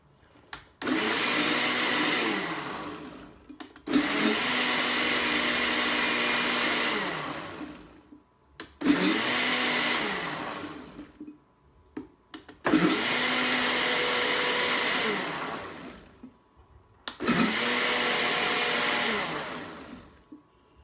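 A blender whirs loudly through a thick facial moisturizer mixture in five long bursts separated by short pauses, each run steady and churning before cutting off abruptly.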